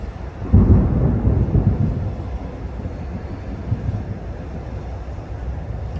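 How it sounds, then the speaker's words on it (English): Thunder from an approaching storm heard near a truck, a deep low rumble that swells early and then rolls on faintly in the distance. "I don't know if you can hear that thunder or not"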